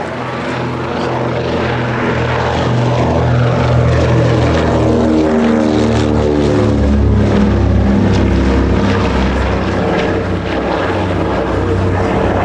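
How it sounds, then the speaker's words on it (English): A Consolidated PBY-5A Catalina flying boat takes off at an airshow, its propellers giving a loud, steady, throbbing drone whose pitch slowly shifts as it climbs away, with no talk over it. "Getting airborne, the consolidated PDY-5A, Catalina"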